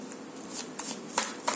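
Tarot cards shuffled and handled by hand, soft papery riffles and slides in short bursts with a few sharper flicks, close and fairly quiet, no talking.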